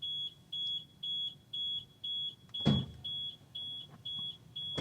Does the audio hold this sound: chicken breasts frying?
no